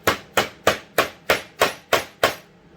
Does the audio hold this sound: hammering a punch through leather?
yes